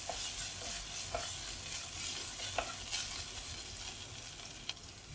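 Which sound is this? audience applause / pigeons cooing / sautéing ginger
sautéing ginger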